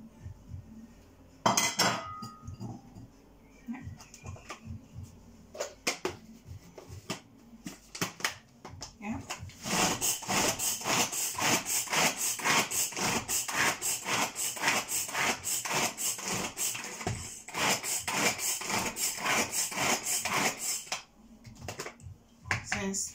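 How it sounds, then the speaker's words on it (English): Chopped broccoli, cauliflower and carrots whir in a blender for rice, a steady loud dense roar running about ten seconds after a few clinks and knocks, then cutting off. "I'm gonna put this inside of it and then blend it all together."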